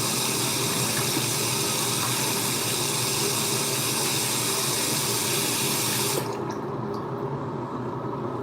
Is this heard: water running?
yes